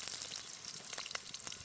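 Chopped green chillies sizzling in hot oil while making chicken majjiga pulusu: a soft, continuous frying hiss with faint crackles, quiet and close, with no talking.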